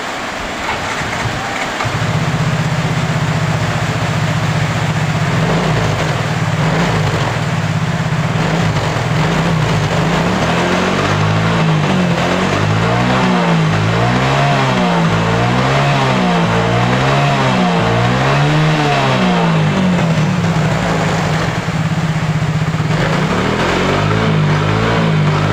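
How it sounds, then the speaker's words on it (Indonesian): A Yamaha Mio J scooter engine, earlier prone to cutting out, starts and settles into a close idle, then revs repeatedly in a rising and falling pattern before returning to a steady idle. "Lalu kita hidupkan mesinnya ya teman-teman."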